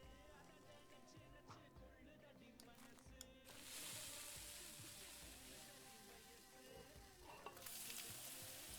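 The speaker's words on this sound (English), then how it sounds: "That's a nice crisp sizzling." Food fries in a pan while being stirred in the cooking game Venba, soft clicks and scrapes giving way to a loud crisp hissing sizzle that swells, dips, then surges again.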